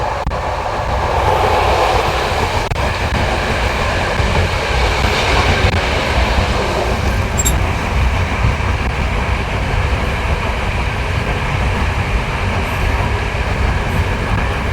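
A train rolls steadily along the rails between Bulgaria and Romania with a continuous loud rumble and faint rhythmic clatter, heard from on board without pause.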